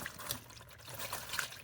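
Thin steady trickle of red transmission fluid from a 2025 Volvo V60 5-cylinder running into a drain pan, close and continuous, with small splashes.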